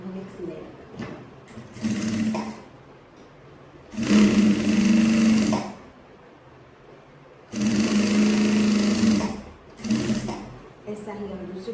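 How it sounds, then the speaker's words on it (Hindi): A sewing machine stitches a seam on a designer side-dori kurti, running in two loud sustained bursts of a few seconds each with quieter gaps between, while a person talks softly around the stitching. "उल्टे पार्ट को ऐसे फोल्ड करके यहाँ पे हम एक सिलाई लगाते हैं।"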